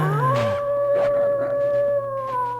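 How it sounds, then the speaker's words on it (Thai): Dogs howling at night in Survivalcraft 2, long wavering tonal howls layered over one another, steady and fairly loud, with a low ambient drone beneath. "หมาหอนน่ากลัวจังเลย"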